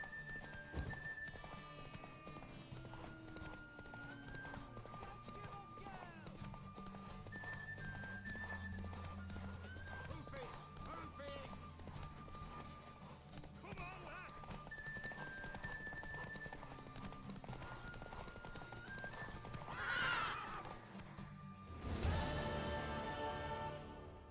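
Horse in The Witcher 3 video game, steady clip-clop of hooves under soft game music, followed by a neigh near the end.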